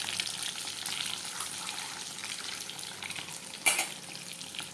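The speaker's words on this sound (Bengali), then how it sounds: "সাদা জিরা দিয়ে দিলাম" White cumin seeds tempering in hot oil, a dense, steady close sizzle throughout with a brief sharper crackling burst near the end, no voices.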